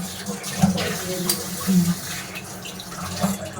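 Tap water runs steadily in a kitchen as freshly cut fish is rubbed and washed under it, with soft splashing close by and faint voices in the background.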